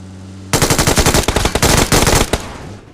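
Rapid automatic gunfire from a mobile battle royale shooter rattles loudly and close, with dense overlapping bursts for about two seconds before cutting off and fading out.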